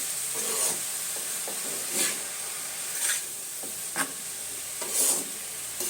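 Large prawns frying over high heat in a pan, a continuous close sizzle with periodic louder bursts as they are stirred and turned, no voices.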